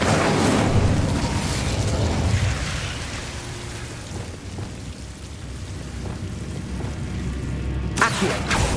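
Incendio fire spell cast in Hogwarts Legacy, a loud rushing burst of flame and rumble that swells at first, then thins into a sustained crackling hiss with a sharp flare near the end.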